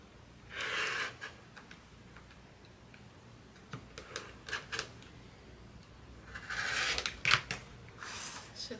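Quilt fabric being cut close by with scissors or a cutter, giving soft snipping and rubbing strokes in two main bursts separated by quieter handling and small ticks.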